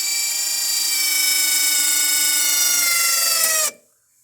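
A 12-volt electric parking brake actuator motor on a Tesla-converted Jeep runs with a steady, high whining hum, then cuts off sharply near the end, leaving quiet. No one talks.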